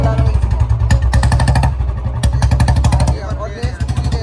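A Royal Enfield Bullet motorcycle engine revs hard at full throttle, a loud, rough, pulsing thump that runs throughout, with someone talking over it.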